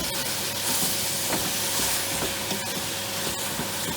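Lamb meat browning in a pan for a casserole gives a steady, continuous sizzle and hiss, fairly loud and close, with occasional small crackles and no talking.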